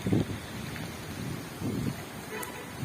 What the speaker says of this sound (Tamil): ஃபுல்லா தண்ணி ஆகிட்டு சரியான மழை, காத்தும் கொஞ்சம் ஹெவியா அடிக்கி.